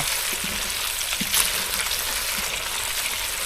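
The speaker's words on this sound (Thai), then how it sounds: "ไฟแรงๆกระทะใหญ่ ๆแบบนี้ นี่เขี่ยไปเรื่อยๆ ครับเนี่ย" Steady sizzling and frying of fresh tilapia in a large wok over high heat, with occasional scraping taps of a utensil stirring the fish, continuous and fairly close.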